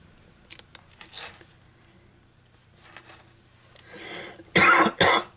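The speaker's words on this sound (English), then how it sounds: "So sorry for my cough." A couple of quiet ticks, then soft rustling, followed by two loud, close coughs in quick succession near the end.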